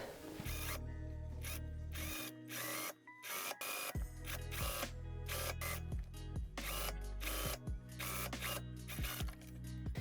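A sewing machine understitches a seam allowance, with rapid needle clatter and whirring motor bursts at close range, interrupted by short pauses and mechanical clicks.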